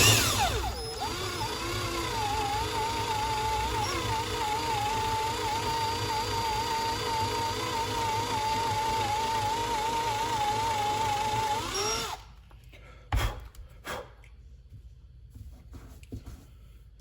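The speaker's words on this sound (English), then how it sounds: "So I'm going to drill this other one." A power drill runs steadily through a metal part for a threaded knob, held in a vise on a workbench near a Vevor MX 400 mini lathe, a continuous whine lasting about twelve seconds before cutting off into faint clicks and handling noises.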